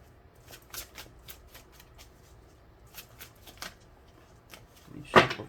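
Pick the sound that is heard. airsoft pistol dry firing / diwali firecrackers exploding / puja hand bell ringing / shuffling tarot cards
shuffling tarot cards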